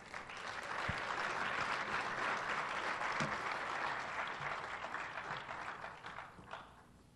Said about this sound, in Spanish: Recibamos con un fuerte aplauso a la señora Isabel Miranda de Wallace.